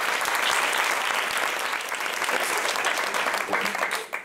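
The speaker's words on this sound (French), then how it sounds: "Bon, ben, on t'applaudit encore." An audience at a pitching workshop breaks into applause, a dense, fairly close patter of many hands that holds steady for a few seconds and then starts to fade.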